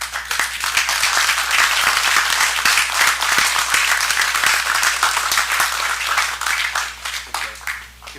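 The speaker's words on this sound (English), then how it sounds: "a round of applause to thank them for the work they're doing in our community" Applause in a city council chamber for code compliance staff receiving a proclamation, a long, fairly loud round of many hands with distinct individual claps, tapering off near the end.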